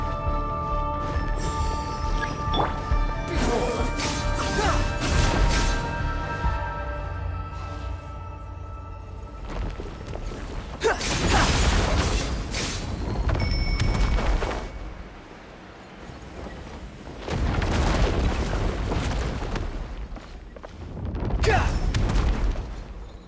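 A breakable wall smashed in a video game, heard as heavy booming crashes and rumbling debris in several loud bursts, with quieter gaps between impacts.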